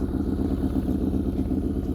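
A Harley-Davidson Evo Sportster with an S&S Hooligan kit and a Lowbrow Customs Hooligan exhaust idles steadily while warming up, its loud, lumpy, low rumble pulsing close by with no voices over it.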